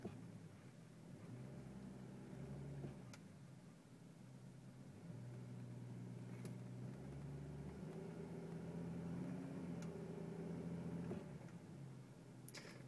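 A Chevrolet Trailblazer that has lost third gear revs in a low, faint, steady drone that swells slightly as it strains without engaging, with no voices.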